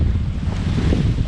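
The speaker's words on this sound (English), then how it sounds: "it's blowing, it's windy out here, it's pretty rough" Strong wind gusts over rough sea off Indonesia, heard from a fishing boat, a dense low rumble of wind buffeting and waves with no talk.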